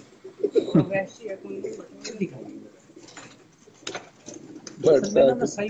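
Pigeons, including white blue-eyed birds at a fancier's loft, coo in soft, throaty rolls that rise and fade. Someone talks over the cooing throughout.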